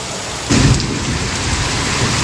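Heavy rain lashing down outside a home during a cloudburst, pushed by strong wind, a loud continuous roar of downpour with a sudden gust-like swell just after the start.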